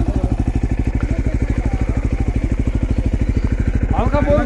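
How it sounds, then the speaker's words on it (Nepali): Motorcycle carrying two riders on an early-morning mountain trip from Mirik toward Sandakphu, its engine thumping in a steady, rapid pulse close up throughout, with a brief voice near the end. "हामी चाहिँ बाइकमा जान रह्यौँ दुईजना हो"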